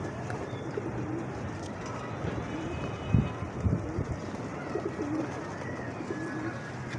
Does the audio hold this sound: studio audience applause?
no